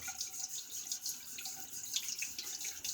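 A safety razor from an Atelier Durdan No. 7 set is rinsed under a steadily running sink tap, with water splashing and spattering at moderate level throughout, no voices.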